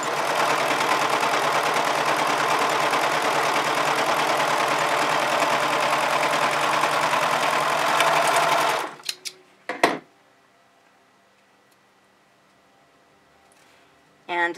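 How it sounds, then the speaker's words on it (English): A 1034D overlock serger stitches fabric in a loud, fast, steady mechanical whir for about nine seconds, then stops abruptly, followed by a few clicks and near silence. "So we're going to go ahead and take a quick stitch now that we've adjusted these just ever so slightly."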